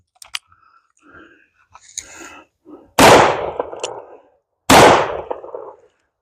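.44 Magnum revolver fires Hornady XTP bullets into a water jug outdoors: two loud, sharp, close blasts about two seconds apart, each with a trailing echo, after a few faint handling clicks and rustles.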